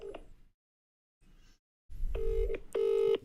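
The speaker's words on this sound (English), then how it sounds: "Let's see if we get Flex on the phone" A phone dials out, with a couple of faint clicks and then two loud, clear dialing tones close to the handset, and no talking.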